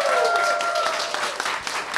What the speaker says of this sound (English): let's get a big round of applause for Scott Sigler as well.